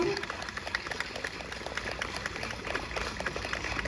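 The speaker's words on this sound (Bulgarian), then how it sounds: "Аплодисменти още веднъж за него." Audience claps for a debut singer at a bard song concert, a steady patter of many hands at moderate distance, continuous and fairly even with scattered sharper claps.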